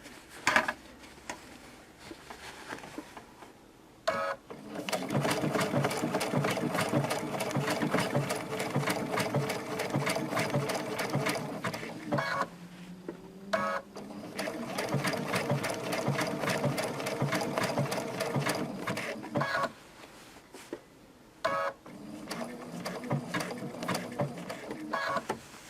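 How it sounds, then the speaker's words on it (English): A sewing machine stitches a machine appliqué leaf in steady whirring, rhythmic runs, stopping briefly between passes and restarting, close and clear with no talk. "I'm going to cross right over where I started my stitching on my leaf."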